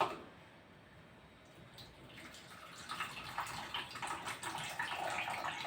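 Half a tumbler of water pours into a blender jar, starting after a quiet pause as a faint, steady splashing trickle that builds slightly and continues to the end.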